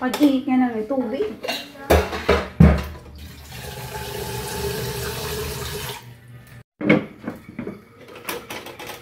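Pots and pans clank and cutlery rattles in a kitchen as water runs steadily from a tap for several seconds while preparing to heat water, with scattered clatter before and after.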